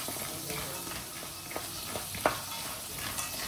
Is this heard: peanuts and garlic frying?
yes